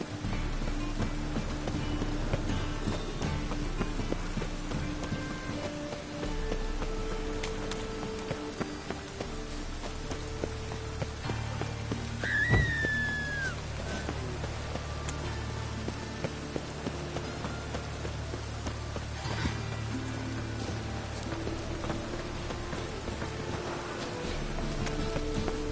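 Steady rain falls throughout in The Witcher 3, a continuous close patter on surfaces with faint hoof-like clopping and a brief bird call midway.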